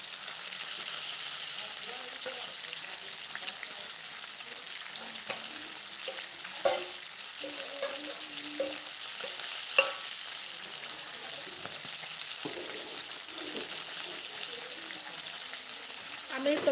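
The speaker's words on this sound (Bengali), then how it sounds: "আমি তো মাছ ভাজাটা করে তারপর চলে যাব।" Fish frying in hot oil, a steady close sizzle with scattered spatter pops and occasional utensil knocks, lasting the whole stretch without speech.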